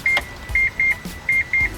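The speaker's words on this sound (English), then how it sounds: "the beep is there to make sure that you do not forget your key inside the car when you turn the engine" A key reminder chime in a Mazda RX-7 FD with the key inserted: five short, evenly pitched electronic beeps in a steady on-off rhythm, close and clear over a quiet cabin.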